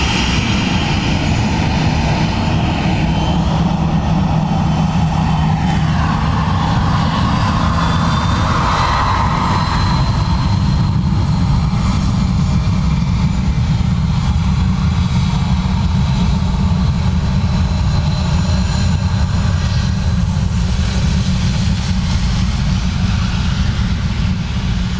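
A plane landing on runway 28 left at Dublin Airport gives a loud, sustained engine roar that fills the whole stretch, shifting slightly in tone as it passes, with no voices.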